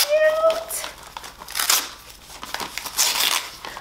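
Gift wrapping paper crinkling and rustling as a Christmas present is handled, close and fairly loud in irregular bursts, with a brief voice at the start.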